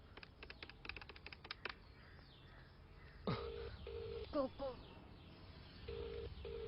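A phone number is keyed in on a mobile during a comic Hindi film scene, a quick run of short key beeps followed by steady ringback tones, fairly close and clear with muffled background ambience and no clear talk.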